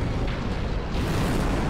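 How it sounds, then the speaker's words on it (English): A volcano-mode transformation in the video game RAD: a dense, continuous rumbling roar, loud and sustained throughout, like an eruption with a steady boom-heavy body and no talk over it. "He's gonna transform into volcano mode now."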